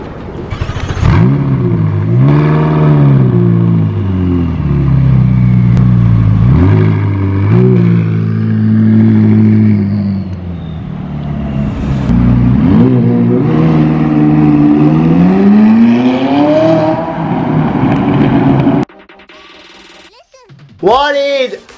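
A McLaren 540C with a 3.8 litre V8 revs loudly and repeatedly, the pitch rising and falling through several sustained blips, then cutting to a quieter tail with a brief whir at the end.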